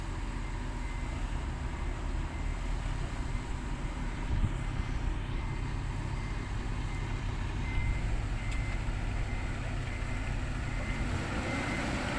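A Hino Mega truck runs at a pond digging site, a steady, loud low diesel rumble that holds constant for the whole stretch with no talk.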